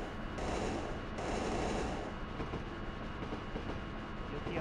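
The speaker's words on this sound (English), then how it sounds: "Yep, train started." Simulated train in the video game Densha de Go 3 pulling away and running, a steady rumbling, rolling drone with a brighter hissing layer over the first two seconds before settling into continuous running noise.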